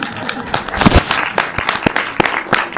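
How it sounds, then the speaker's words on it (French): A cinema audience at a film premiere at UGC Lille applauds, with a loud, dense burst of many hands clapping close by and some sharp individual claps standing out. "Je pense que vous pouvez vous applaudir déjà"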